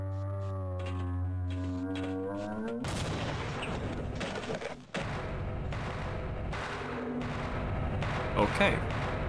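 A grenade going off in Half-Life: a sudden loud blast cuts through a sustained tone, followed by rumbling debris and more heavy impacts, with game ambience underneath.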